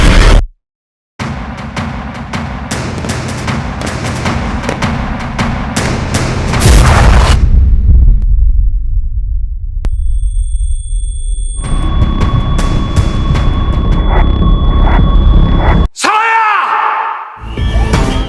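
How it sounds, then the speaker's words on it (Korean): A massive office explosion from a gas leak roars out after a stretch of loud, chaotic commotion, followed by a ringing tone and a further crash near the end. "우장익의 사무실이 폭발하고"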